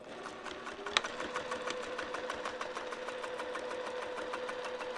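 A sewing machine stitches a vinyl zipper wristlet, its needle hammering in a fast, even mechanical rhythm after a brief start-up click, running steadily and close with no speech.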